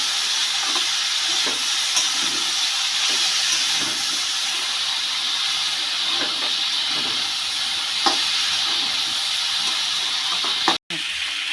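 Cauliflower, potato and peas fry with chopped tomato in a pan, giving a continuous loud sizzling hiss with faint scattered crackles and no voices.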